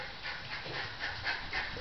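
Two dogs, Chicky and Nugget, pant in quick rhythmic breaths close by during a game of fetch, with soft whimpers mixed in and no talking.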